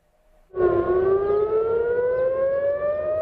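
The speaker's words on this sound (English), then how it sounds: "air raid sirens were activated in Tel Aviv on an almost daily and nightly basis." An air raid siren in Tel Aviv sounds during wartime, starting abruptly after a brief silence and holding a loud, steady wail that slowly rises in pitch.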